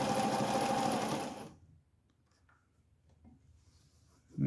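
A vintage White Model 764 "Fair Lady" sewing machine stitches in a steady close mechanical whir for about a second and a half, then stops, leaving near silence and a faint clunk at the end.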